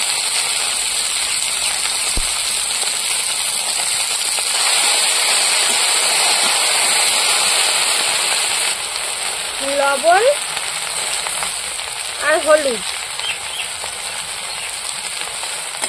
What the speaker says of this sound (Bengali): এবার ভালো করে নেড়ে চেড়ে ভেন্ডিটা ভেজে নেব